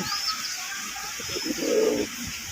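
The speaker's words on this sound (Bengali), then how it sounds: "এক জোড়া লাল লাল টকটকা লাল পাগলা দেশি নর কীভাবে ডাকতাছে" A red native-breed male domestic pigeon coos in low, soft, throaty bursts close by, with some faint chirping in the background.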